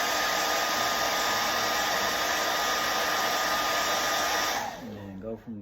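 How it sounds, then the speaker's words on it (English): A heat gun blows hot air close by while Jordan 11 sneakers are being reglued, a loud steady roaring hiss that runs for over four seconds before shutting off, followed by a short rustle. "get my heat gun ready, do that"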